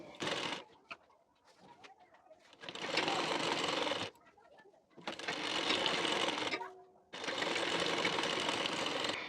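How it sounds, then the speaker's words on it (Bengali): A sewing machine stitches the belt part of a blouse in three long, loud, steady whirring runs separated by pauses, with pigeon-like cooing and faint voices in the quieter gaps. "এখন এই সেলাইটি দেখে নিন"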